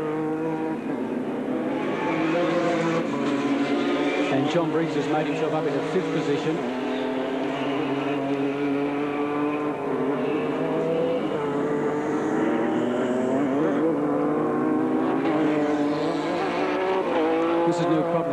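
Formula Holden race cars at Mallala in 1990 roar past with a steady, loud engine drone that rises and falls as they go by, with a commentator talking over the noise throughout.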